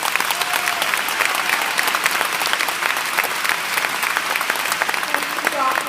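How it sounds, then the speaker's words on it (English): A conference room at a World Health Organization Director-General's address bursts into sustained applause, dense even clapping filling the space with some voices blended in. "the room exploding in recognition and applause"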